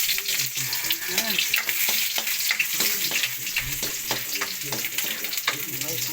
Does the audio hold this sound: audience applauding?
no